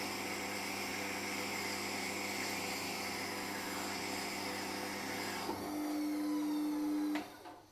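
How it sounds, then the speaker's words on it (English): A sharpening stone being conditioned down to about 350 grit: a steady, even machine drone with a constant hum, changing tone slightly in its last seconds before winding down abruptly at the end. "I'm going to condition the stone, and this will take it down to about a 350 grit cut."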